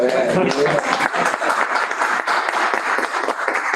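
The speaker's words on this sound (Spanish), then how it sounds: "El otro aplauso." An audience applauds after a thesis defense, a steady wash of clapping that fills the room from start to finish.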